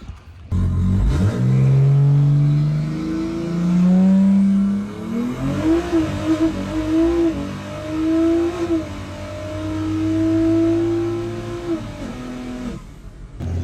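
A highly tuned BMW race car accelerates hard on track, its loud engine note climbing steadily through the gears with rising pitch across several long pulls, close and continuous with no talking.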